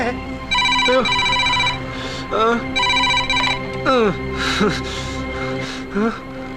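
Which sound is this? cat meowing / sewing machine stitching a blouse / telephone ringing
telephone ringing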